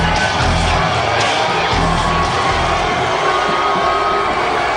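A packed wrestling arena crowd at a TNA event roars and cheers loudly and continuously, with whoops and shouts mixed into the dense noise.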